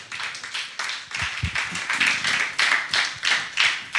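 A church congregation applauds together, giving dense, steady clapping with a slightly rhythmic pulse that carries through the whole stretch.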